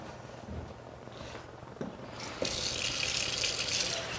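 Warm water pouring into a bowl of dry ingredients for Navajo fry bread dough, a soft steady trickle that swells into a brighter, louder gush partway through, heard close up in a quiet kitchen.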